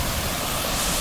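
Discharged well water pours down a river bank into a river, a broad, steady rushing wash with no break across one brief second.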